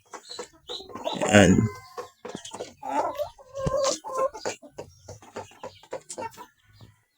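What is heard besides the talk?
hens clucking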